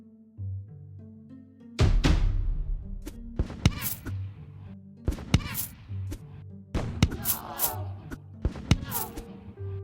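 A cannon tower in the Tower Alchemist tower-defense game fires a series of booming shots with sharp impacts, spaced irregularly over a looping low musical backing.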